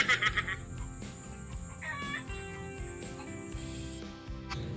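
Chickens cluck and squawk in a restless commotion at night, close and moderately loud, with a thin steady high whine running beneath the flurry of calls.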